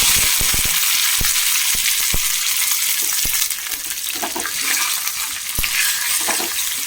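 Two dried red chillies and fresh curry leaves fry in hot oil with a bright, loud sizzle, while a spoon stirring the pan clacks sharply against the metal several times at irregular intervals; no one speaks.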